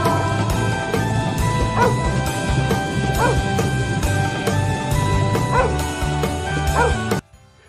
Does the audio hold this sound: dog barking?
yes